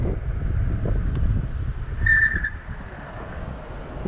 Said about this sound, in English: the rear wheel locked up and we're skidding for some distance